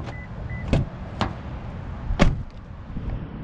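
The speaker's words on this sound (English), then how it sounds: "if you wanna lock it, just touch the little rib at the front of the door handle, unlock it, you just grab the handle as normal" Touch-lock door handle of a 2021 Lexus GX460 SUV, three or four sharp clicks and thunks of the locks engaging and releasing, close and fairly loud over a steady outdoor hiss.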